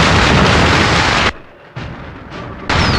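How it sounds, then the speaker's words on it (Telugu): Firecrackers and bombs burst in a film action scene: dense, loud explosive blasts fill the first second, drop away briefly, then return in renewed heavy bursts. "ఇక్కడ రకరకాల టపాకాయలు బాంబులు పేలుతున్న చప్పుడు వింటున్నావా?"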